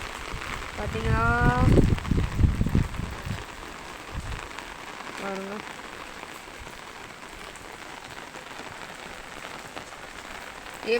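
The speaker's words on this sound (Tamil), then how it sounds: "எவ்வளோ மழை பெய்யுது பார்த்தீங்களா." Rain pours down steadily outdoors in a constant broadband hiss, with someone talking over it near the start and again briefly later.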